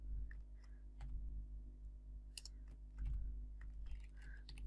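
Someone types on a computer keyboard while building a WordPress website, with scattered, irregular key clicks and small bursts over a low, steady background hum.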